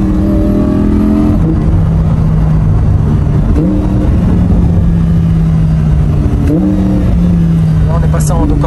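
Loud Audi R8 V10 engine revving and accelerating in dynamic mode with sport gearbox, sharp exhaust pops and crackles from a Milltek exhaust, heard from close by inside the car under some talk.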